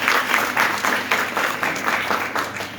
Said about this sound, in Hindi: हम चाहेंगे डॉक्टर लिम के जोरदार ताली।